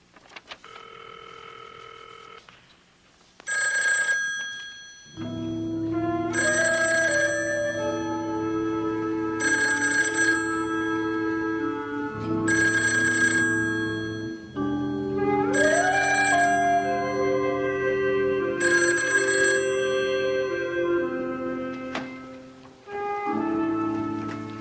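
A telephone rings repeatedly in steady bursts with short pauses between, a bright electronic trill over a low steady hum, loud and close.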